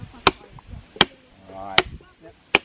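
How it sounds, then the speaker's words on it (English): A hammer drives a rock wedge into a log to split it: four sharp, loud, evenly spaced strikes, with quiet voices murmuring between the blows. "Yeah, hammer that rock in."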